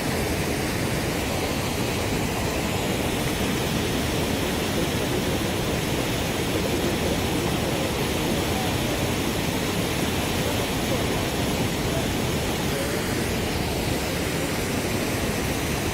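Waterfall on a river in bear country, a constant dense roar of rushing water filling the whole scene without pause.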